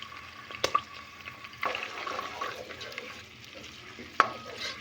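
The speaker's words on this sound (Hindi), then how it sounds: "इसको मैंने तेज़ आंच पे भून लेना है।" A medium onion frying over high heat in a pan, a soft steady sizzle with a few sharp clicks and stirring scrapes, close and fairly quiet, no voices.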